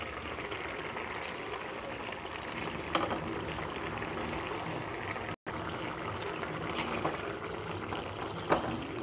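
Cauliflower gravy boiling in a pot, a steady bubbling simmer heard up close at low volume, with a couple of faint clinks and a very brief dropout, no voices.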